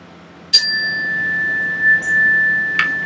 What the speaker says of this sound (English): When you hear the chime, the minute will start.